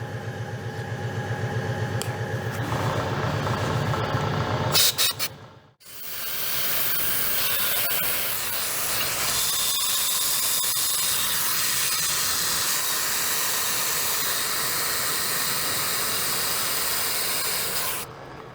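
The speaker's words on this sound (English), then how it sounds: "We'll do this second one with compressed air, keeping the chips out of the way" Loud continuous hiss of compressed air blowing chips away while machining a jig-bore style boring head, briefly cutting out and then resuming as a sustained rushing blast.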